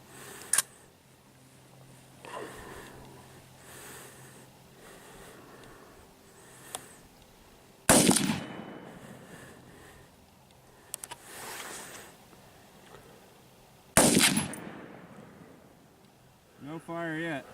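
An AR-15 rifle fires at a jack-o'-lantern outdoors, with a few sharp, loud cracks spaced seconds apart between quieter stretches where people talk.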